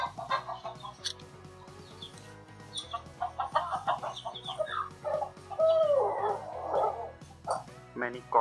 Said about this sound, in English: Many cocks and hens over there.